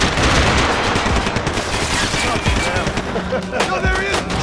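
Bursts of automatic gunfire fill a shootout in the video game Max Payne 3, loud rapid rattling shots close by, mixed with shouting voices and impacts.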